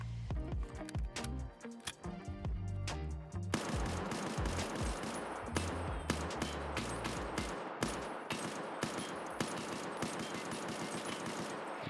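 An SKS rifle is fired in a video game, first as a few spaced shots and then as a long string of rapid, loud cracks close by, with no one speaking.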